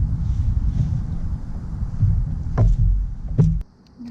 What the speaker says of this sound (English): I'm going to paddle up to where it's more shallow, start there and work my way out.